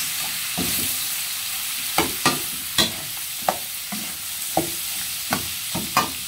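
Pork sisig sizzles in a pan while being stirred with calamansi juice, a steady frying hiss punctuated by sharp utensil scrapes and clacks at irregular intervals, close and clear.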